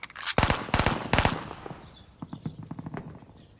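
Rapid automatic bursts from a machine pistol in Call of Duty: Vanguard, loud and sharp at first, followed by quieter rattling and mechanical clicks.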